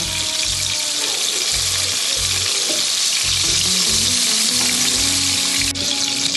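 Shrimp frying in a hot pan, a loud steady sizzle with low thumps from stirring or turning the pieces throughout.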